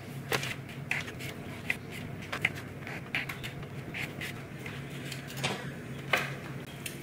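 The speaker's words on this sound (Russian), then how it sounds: "Нарезаю помидорки черри." Soft, sharp knife taps on a cutting board as cherry tomatoes are sliced, irregular and quiet, one cut after another with a faint background hum.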